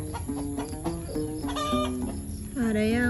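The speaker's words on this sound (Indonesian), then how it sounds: "Ada ayam aku lagi berkokok." A village rooster crows close by in a long, wavering call, joined by a few clucking notes and a second crow rising at the end, with a little background murmur.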